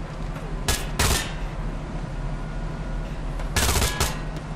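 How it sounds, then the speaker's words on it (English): Gunfire from a tank crew's battle in Hell Let Loose, with two loud close bursts of rapid machine-gun shots about three seconds apart over a steady rumbling battlefield background. "Man, stop shooting"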